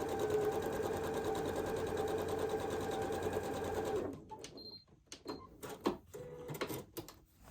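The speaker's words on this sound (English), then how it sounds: "We are gonna sew directly on that line." A sewing machine stitching a quilt block along a marked line runs in a fast, even whir for about four seconds, then stops, leaving faint handling clicks and rustles.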